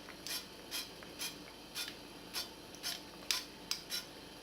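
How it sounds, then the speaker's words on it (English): Fry Light cooking spray pumped onto a griddle pan in a series of about ten short, crisp hissing spurts at a quick, even pace, with no talking. "And I'm gonna spray that with a fry light."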